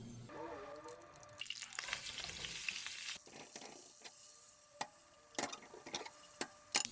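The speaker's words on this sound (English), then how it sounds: "Right now, we're going to throw our onion in here with a little oil." Onions frying in a little oil in a pan, a quiet continuous sizzle with stirring scrapes and a few sharp clicks and taps toward the end, no voices.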